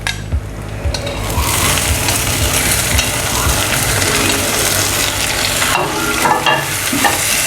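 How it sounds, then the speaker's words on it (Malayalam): Shallots and green chillies sautéing with garlic and ginger for a sardine and ash gourd curry, a loud continuous close sizzle with repeated stirring and scraping throughout, no voices. "നമുക്കിനി ഇതിനെ നന്നായിട്ട് വഴറ്റിയെടുക്കാം."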